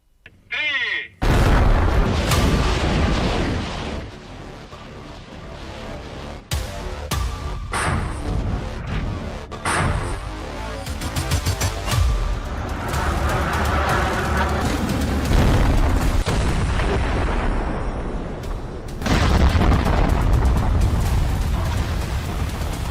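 Explosions from Russian missile and artillery strikes on Ukraine, heard as repeated loud booms and heavy rumbling bursts over more than twenty seconds, close and forceful, with sharp cracks and a continuous roar between blasts.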